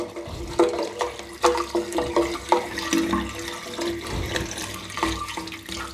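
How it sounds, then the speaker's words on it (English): Water from a hose runs and gurgles down a bathroom drain in a continuous splashing, sloshing rush, close and moderately loud, with no talking, while a smelly drain is flushed out. "So I'll leave the hose in the drain for a while, let that drain through"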